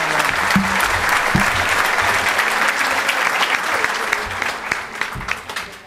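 Sustained audience applause at a peace movement political rally, dense and steady for about six seconds, with a few brief voices underneath and the clapping thinning slightly toward the end.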